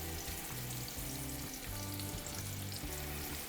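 Lemon juice hits a hot pan of zucchini pasta sauce on low heat, giving a short, dense, even sizzle that holds steady without pause or speech.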